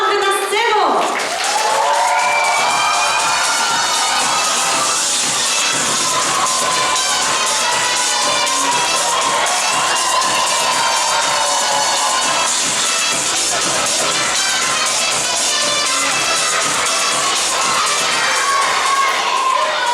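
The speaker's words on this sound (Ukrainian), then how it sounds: "зустрічаємо оплесками наші команди" A TV game show studio audience applauds and cheers for the competing teams, a loud continuous roar of shouting, clapping and children's cries that holds steady for the whole stretch, with music mixed in.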